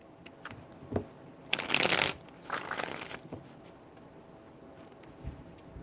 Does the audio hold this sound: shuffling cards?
yes